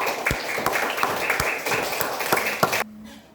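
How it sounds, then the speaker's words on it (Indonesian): A classroom of students claps for group 3 after its performance, dense steady applause with a few louder claps, then it cuts off abruptly near the end, leaving quiet room tone. "kita tepuk tangan dulu buat teman kita kelompok 3 yang sudah tampil."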